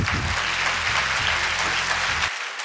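Applause from an audience at a closing ceremony for a hill journey event in Uttarakhand, steady dense clapping that carries on for over two seconds, with faint music underneath, then cuts off abruptly.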